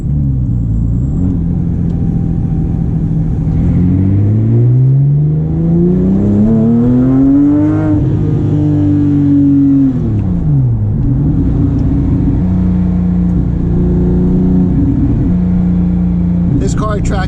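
A Porsche 997 GT3 RS with hydraulic steering and an 8400 rpm redline revs hard while driving, its loud engine note climbing and falling through blipped rev-matched downshifts, heard from inside the car.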